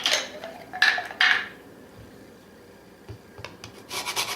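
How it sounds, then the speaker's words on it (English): Nutmeg rubbed across a grater over a quiche egg mixture, giving a few short rasping strokes near the start, then a quiet gap and a faint scrape or two at the end. "And some nutmeg."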